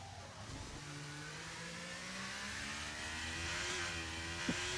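An Alfa Romeo Formula 1 car in F1 23 during qualifying at the Azerbaijan Grand Prix, a steady mid-pitched engine tone that rises gradually as it accelerates, moderately loud and continuous, with a faint knock near the end.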